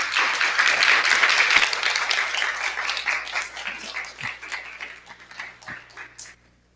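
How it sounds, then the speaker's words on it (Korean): A church congregation applauds to welcome a visiting missionary, a loud dense burst of clapping that gradually thins into scattered claps and fades out. "우리 박수로."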